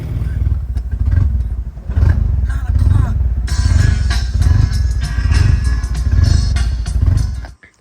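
A Nissan D21 engine running cold makes a loud, rough, pulsing idle close by, with clattery rhythm throughout before it cuts off abruptly at the end.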